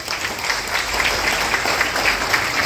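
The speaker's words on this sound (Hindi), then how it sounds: "जोरदार तालियां बनती है इनके लिए" Loud, steady applause from a standing audience at a health talk, honoring guests, dense clapping continuing without a break.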